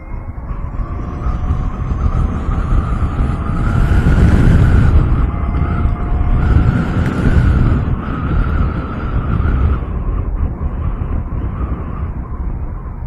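A Matter AERA electric motorcycle with gears and clutch accelerating in fourth gear on a road, a loud continuous rushing drone with a faint rising electric whine, swelling and easing as speed builds.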